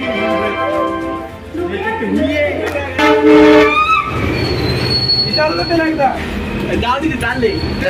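A passenger train runs on rails with steady rumbling and loud squealing wheels, a continuous close roar throughout with no talk.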